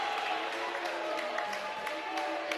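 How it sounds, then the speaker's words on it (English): Basketball crowd at a high school holiday tournament game, Westwood against Foxboro, cheering from both sides as a loud, steady gym roar with scattered clapping and indistinct voices. "The crowd getting into it on both sides"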